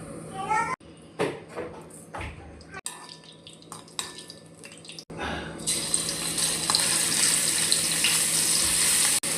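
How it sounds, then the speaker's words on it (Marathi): Crushed garlic hits hot oil in a pan and sets off a steady, bright sizzle for the last few seconds, after earlier clattering handling sounds, with a person talking over parts of it. "लसूण छान फ्राय करून घ्यायचा।"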